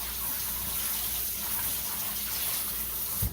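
Cold tap water runs steadily while jerky meat is rinsed and mixed by hand, a constant close splashing hiss with a small knock at the end.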